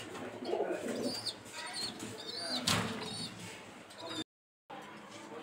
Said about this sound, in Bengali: এখানে দেখতে পাচ্ছেন এক জোড়া বিগ সাইজের রেড চেকার রেসার হুমা কবুতর।